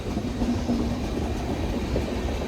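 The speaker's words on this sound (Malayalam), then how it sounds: "ടാറ്റാനഗർ WP7 വെച്ച് പോകുന്നത് ടാറ്റാനഗർ എറണാകുളം എക്സ്പ്രസ് ആട്ടോ" Tatanagar–Ernakulam Express hauled by a WP7 locomotive rolling past at Wadakancheri, Kerala, a steady low rumble of wheels and carriages at moderate distance, no voices.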